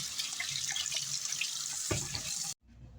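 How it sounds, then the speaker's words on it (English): Kitchen tap running over a sweet potato as it is washed, a close, steady splashing rush with brief shifts as the potato is turned, then the water cuts off abruptly near the end. "The thing I'm going to do is wash off the sweet potato."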